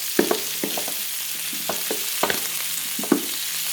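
Shrimp and mushrooms stir-fry in a pan with snow peas, a low constant sizzle punctuated by repeated clinks and scrapes of the utensil against the pan, close and without talk.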